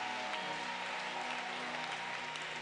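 A church congregation claps together, a steady, dense stream of applause mixed with sustained music or singing tones underneath, held at an even level throughout.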